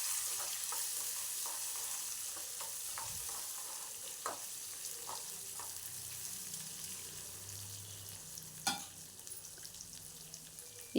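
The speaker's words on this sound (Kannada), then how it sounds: "ಇದನ್ನು ಚೆನ್ನಾಗಿ ಫ್ರೈ ಮಾಡ್ಕೊಳ್ಳಿ." Onions fry in a pan for sambar with a soft, steady sizzle, broken by occasional scraping stirs and light clinks, close and fairly quiet throughout.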